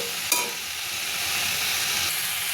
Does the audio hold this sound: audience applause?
no